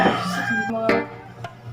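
A rooster crows with a drawn-out, wavering call, heard fairly close and alone at moderate loudness, with a couple of brief sharp clicks during the crow.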